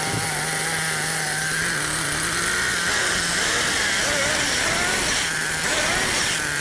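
A small engine runs steadily during a carburettor adjustment, with a loud, constant buzzing drone and small shifts in pitch as the idle is tuned.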